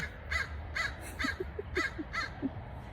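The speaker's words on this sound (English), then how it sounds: "I think the crows really like this conversation." Crows caw outdoors in a steady series of about six harsh calls, evenly spaced and moderately distant, over a low background hum.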